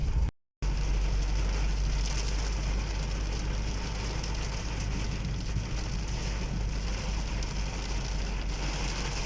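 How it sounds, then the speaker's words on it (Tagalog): Heavy rain pours in a dense, continuous roar after a brief dropout at the start, with a delivery vehicle's low engine idling underneath. "malakas ang ulan dito"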